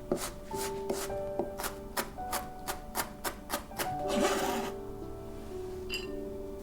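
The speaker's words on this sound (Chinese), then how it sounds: "一颗洋葱头，先切片再切丁，" A knife chops an onion on a cutting board, slicing then dicing it toward a mince, in about a dozen crisp, evenly spaced strokes followed by a brief scraping rustle, with soft music underneath.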